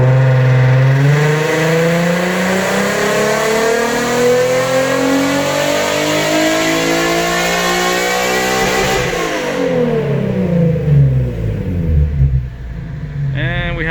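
A 2020 Nissan 370Z Nismo on a dyno pull: the engine revs rise steadily in a loud climbing sweep, then drop sharply as the throttle closes and winds down.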